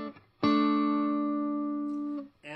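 Korean-made Fender Squier electric guitar playing a single sustained note or chord that rings clearly for nearly two seconds, with brief quieter picking before and after, heard alone.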